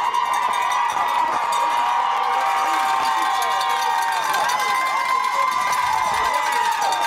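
Crowd cheering and shouting fills the bleachers at a Floyd Central high school football game, a steady, dense roar of many voices with whistles and yells throughout, loud and continuous.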